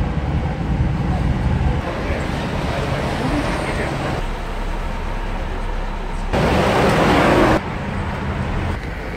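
A hop-on hop-off tour bus rolls through Santiago, Chile traffic with a loud steady road rumble and engine noise, a burst of louder wind or passing traffic partway through, and voices mixed in.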